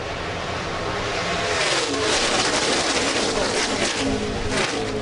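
NASCAR stock cars in the 2012 Nationwide Series Subway Jalapeño 250 at Daytona roar past in a dense pack, producing a loud, continuous engine drone that swells and shifts, with a commentator's voice faintly underneath.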